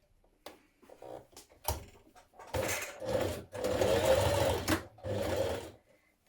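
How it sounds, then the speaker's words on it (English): A sewing machine stitches fabric ties onto each end of a strip of elastic while making a tunic top from a New Look 6575 pattern, running in several bursts of close, steady mechanical whirring separated by brief pauses. "we're going to stitch our ties that we've just made to each end of the elastic"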